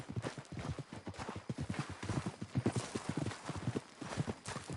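Horse hooves clip-clop steadily in the Red Dead Redemption video game, a quick, even rhythm of hoofbeats on hard ground that stays close and moderately loud throughout, with no talking over it.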